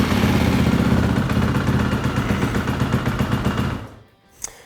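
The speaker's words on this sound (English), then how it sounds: "Then start the machine and ensure that it is running properly." A KTM motorcycle engine starts and runs after a fuel pump filter replacement, a loud, rapid, steady putter that cuts off abruptly near the end with a brief click.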